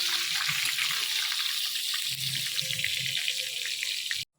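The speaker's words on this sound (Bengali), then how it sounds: "চলো বেগুন ভাজা এখন হচ্ছে" Brinjal slices frying in a pan: a dense, steady hiss and sizzle close up, continuous for about four seconds and then cutting off abruptly, with no talking.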